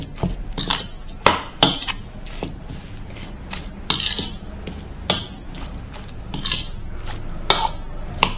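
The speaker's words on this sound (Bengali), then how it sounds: "আগে এগুলো আমি একটু ভালোভাবে চামচের সাহায্যে মেখে নেব।" A metal spoon mixes chopped green chilli and onion in a bowl for fish head pakora, making repeated sharp clinks and taps against the bowl in an uneven rhythm, close and fairly loud, with no talk.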